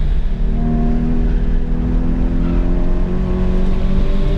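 A Porsche GT4 (981) engine drones loud and steady through a high-speed section of an autocross course, with a sustained, slightly rising tone that holds throughout.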